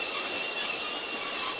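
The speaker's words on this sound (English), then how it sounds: "Wow, look at that train go." G scale model train running in a steady, continuous rolling rush with a bright metallic hiss, moderately loud and uninterrupted.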